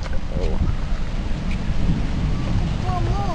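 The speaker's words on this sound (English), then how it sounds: "The wind is still pretty strong." Strong wind buffets the microphone outdoors in a steady low rumbling roar, with faint voices breaking through near the end.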